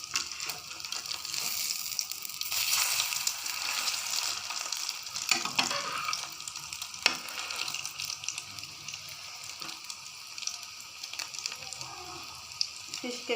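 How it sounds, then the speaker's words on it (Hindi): Fish kebabs sizzle in a frying pan, a steady, fairly faint crackle with occasional louder pops and spatters, with no talk over it. "अच्छे से फ्राई हो रहे हैं।"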